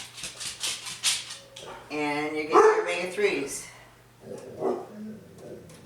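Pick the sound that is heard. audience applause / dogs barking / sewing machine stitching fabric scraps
dogs barking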